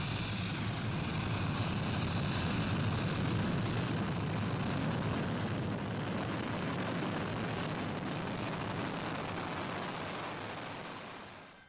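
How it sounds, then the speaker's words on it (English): Landing thrusters of a bronze metal spacecraft setting down at a mining depot settlement, a loud continuous broadband roar with rumbling low end that holds steady and then tapers off at the end. "its landing thrusters kicking up dust."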